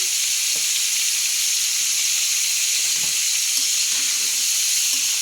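Chicken adobo sautéing in hot oil in a pan, a steady loud sizzle and hiss throughout, with a few soft scraping knocks from stirring.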